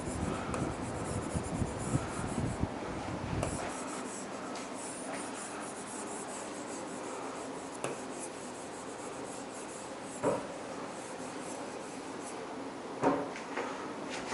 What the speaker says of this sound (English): let me write somewhere better for you